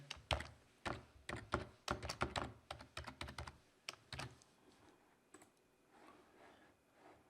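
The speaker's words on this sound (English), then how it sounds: "I'm going to type that again." Close typing on a computer keyboard, with a quick run of irregular key clicks and thumps that trails off into a few faint taps before going quiet.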